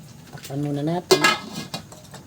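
A lid set onto a cooking pot while making fish soup with miso, a short metallic clatter and clink up close, following a brief stretch of speech.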